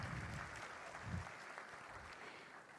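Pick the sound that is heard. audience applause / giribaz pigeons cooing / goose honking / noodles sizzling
audience applause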